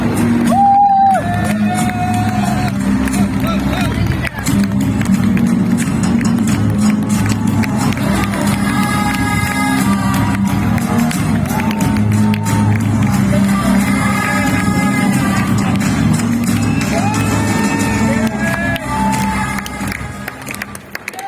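A crowd at a friends' meet event cheers and applauds a young leader being introduced, with sustained loud clapping, whoops and shouts under upbeat music, and a voice talking over the noise throughout.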